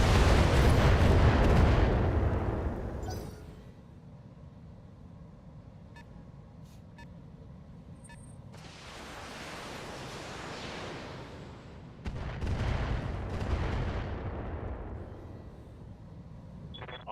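Heavy booming weapons fire hits a Corsair mech in the BattleTech mod BTA: a loud rumbling blast at the start, then quieter mechanical hum, and two more surging bursts of impacts mid-clip and near the end.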